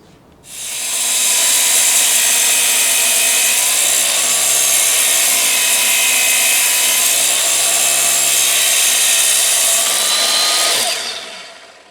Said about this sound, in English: I clean the cut up with a file